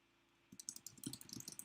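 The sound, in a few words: typing on a computer keyboard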